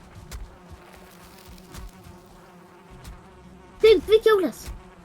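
Bees in the Valheim video game buzz in a loud, close burst of several rising and falling drones near the end, following quieter game ambience.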